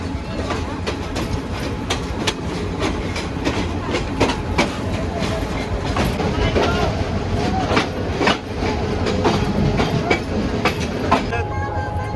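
The Dewanganj commuter train on the Dhaka to Jamalpur line rolls into Gafargaon station, heard from inside with steady clickety-clack over a dense rumble, sharp wheel clicks and a faint squeal near the end.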